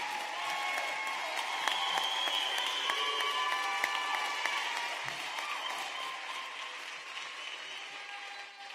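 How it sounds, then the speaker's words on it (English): Graduation audience for the Achievement Academy at Harbor City High School Class of 2021 applauds steadily for nearly nine seconds, dense clapping with scattered cheers that slowly thins toward the end. "Can we please give a big Baltimore City applause for their work and effort for this year?"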